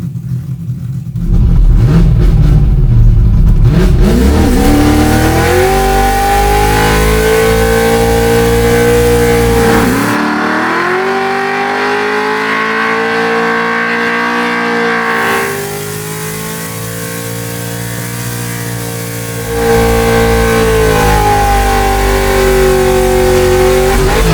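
A track-built 1965 Ford Mustang Fastback race car engine revs hard and holds high while smoking its tires, rising and dipping in pitch over a long stretch, roaring close up with no pauses.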